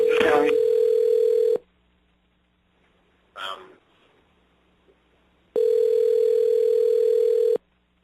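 A steady telephone dial tone sounds loud and close for about a second and a half, cuts to near silence with a brief noise, then returns for another two seconds before stopping.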